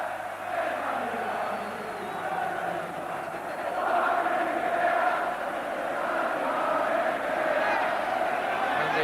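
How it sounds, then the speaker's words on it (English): The Wembley crowd at the 1982 FA Cup Final replay between Tottenham Hotspur and Queens Park Rangers gives a steady, distant roar of cheering and applause that swells midway. "the big Argentine has received a generous reception from the Wembley crowd tonight"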